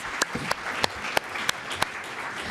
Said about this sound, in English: Let's give a round of applause for all our panelists.